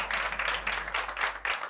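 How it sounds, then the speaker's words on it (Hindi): A group applauds in a lively indoor gathering where a woman is being welcomed, steady overlapping clapping in bursts across the whole stretch at moderate volume, no voices over it. "तालियां!"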